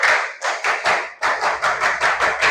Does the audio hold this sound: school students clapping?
yes